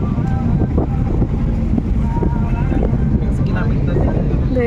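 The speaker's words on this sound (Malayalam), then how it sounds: "നല്ല ഉപ്പ് കാറ്റ് വീശുന്നുണ്ട്." Steady salty sea wind gusting near the Ain Dubai observation wheel in Dubai, buffeting the microphone with a constant low roar, with faint distant voices beneath.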